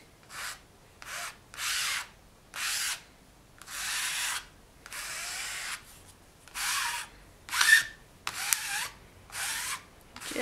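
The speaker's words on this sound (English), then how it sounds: "And use it to scrape that paint through your screen." A scraper rasps paint through a silkscreen onto polymer clay in a run of about ten short, even strokes, each a brief scratchy swish with quiet pauses between.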